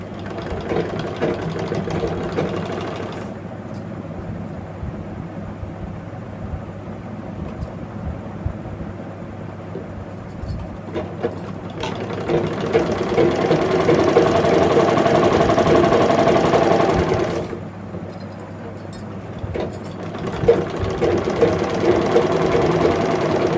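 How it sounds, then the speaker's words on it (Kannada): A sewing machine runs a long seam along the sleeve of a nighty made from an old saree, a steady mechanical whir in extended bursts with short pauses between runs. "ನೋಡಿ ತೋಳು ಉದ್ದಕ್ಕೆ ಹೊಲಿಗೆ ಹಾಕಬೇಕು."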